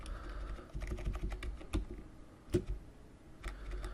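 Arrow keys on a computer keyboard tapped in short irregular bursts, close and fairly quiet, clicking alone in a room.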